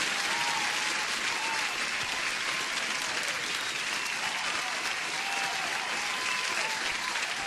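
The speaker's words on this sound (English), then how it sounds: "Applause for Reza." Continuous applause from a crowd, steady and dense for the whole stretch, heard at a moderate distance with no talking over it.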